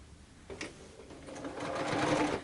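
A sewing machine stitches fabric strips, starting with a few short bursts and then settling into a steady, continuous whir that grows louder toward the end.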